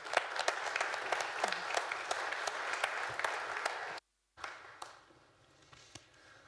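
An audience at an automotive technology conference applauds as Jan Hakl and Thomas come on stage, dense clapping that cuts off abruptly and then resumes more thinly as scattered claps fade out.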